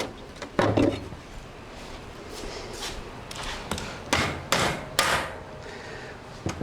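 Parts of a Harbor Freight 1500 lb aluminum ATV/motorcycle lift being tapped out with sharp metallic knocks, around seven uneven hits spread over several seconds, close and fairly loud.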